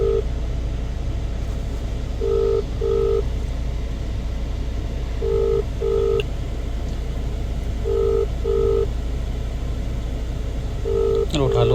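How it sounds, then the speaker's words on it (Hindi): A mobile phone call rings out: steady paired beeps of a ringback tone repeat at regular intervals, heard close over a constant low rumble of a moving vehicle, with a short rustle at the end. "चलो जी करते हैं सर को फ़ोन।"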